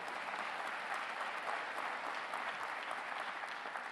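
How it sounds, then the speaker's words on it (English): An audience applauds during a 2018 State of the City address, with dense, steady clapping from a large crowd at moderate level, heard alone without speech. "yes, you can clap on that."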